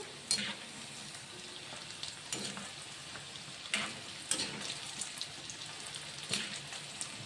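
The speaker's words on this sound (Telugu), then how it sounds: "ఇట్లా పైకి కిందికి తిప్పడం వల్ల ఇది కలర్ అనేది చేంజ్ అవుతుంది" Pieces of boiled egg frying in oil in a pan for a spicy Telugu egg pickle, a steady soft sizzle broken by sharp scraping clatters as the pieces are flipped over and over, close and alone.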